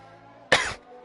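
A single sharp cough bursts out close to the microphone, a short harsh burst that trails off within a quarter second over a faint steady background hum.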